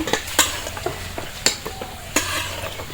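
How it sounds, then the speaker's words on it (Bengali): Chicken and corn fritters (bora) frying in oil, a steady soft sizzle broken by sharp clinks and scrapes of a utensil stirring and lifting them from the pan, close by with no talking. "দেখুন আমি এইভাবে বড়াগুলো সবগুলো ভেজে নিব।"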